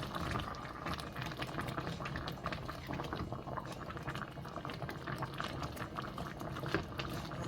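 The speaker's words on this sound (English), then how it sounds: "I'm gonna let this simmer down." A pot of dinner simmers on a stovetop, giving a steady close bubbling and hiss with soft popping throughout, heard alone without speech.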